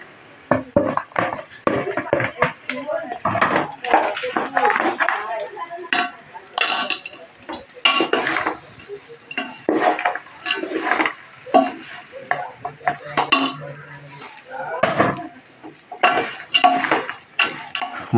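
Jaggery being added to half-fried semolina in a pan, with repeated scraping and clinking of a spoon against the pan in an irregular rhythm, a faint sizzle beneath, close and fairly loud.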